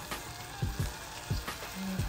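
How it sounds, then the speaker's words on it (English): Onions, garlic and seasonings cooking down in a pan make a soft, steady sizzle with a few quiet clinks of a utensil, faint and with no talk. "I got the onions and garlic and seasonings cooked down pretty good"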